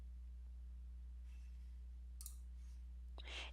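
A computer mouse gives a few faint, sharp clicks, spaced irregularly over a quiet, steady electrical hum, with no speech.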